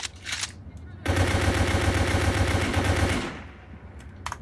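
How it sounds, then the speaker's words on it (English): Sustained automatic assault rifle fire in the GameGuru video game, a loud continuous burst of rapid shots lasting about two seconds, with a few scattered single shots before and after. "give yourself an weapon, so I'll have an assault rifle, lots of ammo,"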